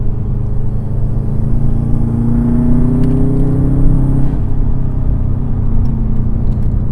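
A 2004 Subaru WRX with 260 all-wheel horsepower is driven quickly through corners, its engine droning loud and steady with rising and falling revs over heavy road rumble from inside the cabin.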